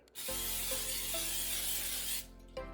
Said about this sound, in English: We're going to spray some olive oil into the basket